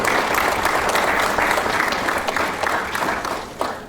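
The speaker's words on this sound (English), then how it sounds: "I want you to please give a round of applause to this team." Sustained clapping from an audience at a hackathon opening ceremony, dense and steady throughout before tapering slightly at the end, with a faint cheer or shout near the close.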